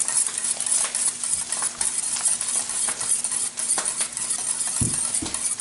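Eggs whisked together in a bowl for a breakfast burrito, a steady close scraping and clinking of the whisk against the bowl with a couple of heavier knocks near the end, no talking.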